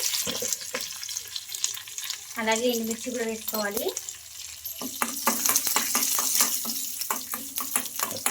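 Mustard seeds, cumin and lentils frying in oil for a tempering, a crackling sizzle with sharp popping bursts that grows busier toward the end, heard under a woman's speech.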